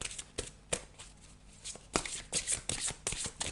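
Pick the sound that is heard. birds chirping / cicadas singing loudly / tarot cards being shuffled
tarot cards being shuffled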